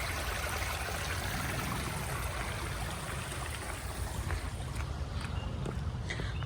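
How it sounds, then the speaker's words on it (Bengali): Waterfall water in a botanical garden rushes in a constant, broadband wash with a low, rumbling undertone, steady and fairly near, with no voices. "ঝর্ণার পানির শব্দ দেখেন।"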